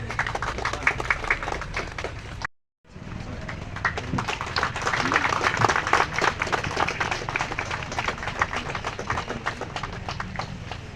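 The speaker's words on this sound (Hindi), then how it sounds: "असीम मंडल, जोरदार तालियां बजाएं" Audience applause at the opening of a new children's traffic park in Diglipur, steady loud clapping across most of the clip with a brief gap near the start and voices mixed into the crowd noise.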